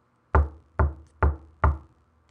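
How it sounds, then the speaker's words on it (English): Four evenly spaced, hollow knocks on a ship's cabin door, close and fairly loud, each ringing briefly before the next, alone without voices. "I went to his cabin door and knocked timidly."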